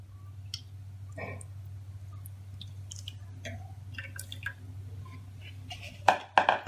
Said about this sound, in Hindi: अब हम इसमें बेसन का घोल डालेंगे।